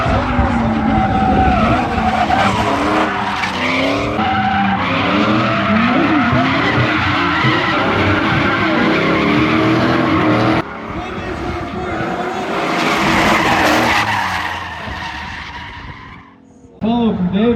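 Drift cars skid around Suika Circuit with long wailing tire squeals and roaring engines, loud and continuous at close range, while an announcer talks over the noise.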